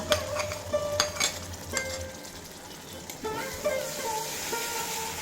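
Green beans being stirred in a pan with cashew-poppy seed paste and Kashmiri chilli powder, giving repeated scraping and clinking of a spoon against the pan over a low frying sizzle.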